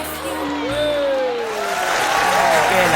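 Audience applause at a wedding-style celebration, a steady clapping wash that builds slightly louder over the clip, mixed with crowd noise and tonal whistle-like sounds or music.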